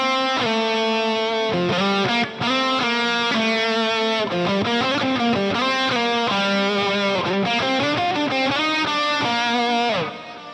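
Electric guitar lead tone played through the Audio Assault The Crown amp simulator plugin, with delay and reverb, a continuous distorted melodic line of sustained and quick notes filling the clip without talk.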